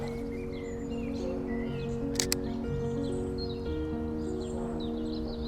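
A Canon M50 Mark II camera shutter fires once during outdoor landscape shooting, a crisp double click standing out over steady birdsong and faint background hum.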